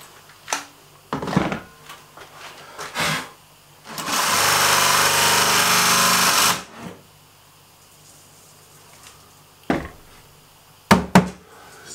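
Drilling cable holes into wooden boxes for a homemade photo booth: one loud, steady burst of the drill lasting a couple of seconds, set between short knocks and handling clatter of wood nearby.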